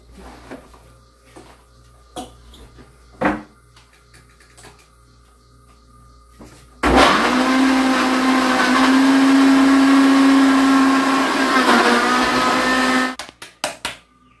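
A kitchen blender whirs loudly and steadily for about six seconds mixing cassava cake batter with milk, starting abruptly after quiet handling clatter and cutting off sharply, followed by a few knocks.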